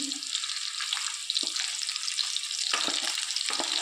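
Chitol fish fritters frying in a pan, a steady bright sizzle of hot oil with a few short crackles and spits, close and continuous throughout.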